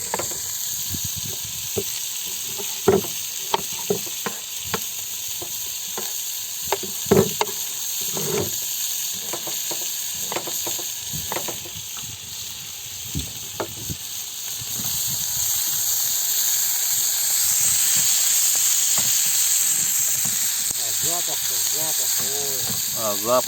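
Food fries in a pan aboard a small fishing boat on open water. A steady hiss of frying swells in the second half, mixed with scattered clatter, wind and water noise, while a person talks.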